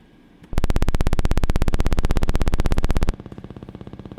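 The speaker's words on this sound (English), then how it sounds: "that's just the two saw waves together" A bright, buzzy FM synthesizer tone of two saw waves pulses rapidly and steadily for a few seconds, then drops to a quieter, thinner buzz.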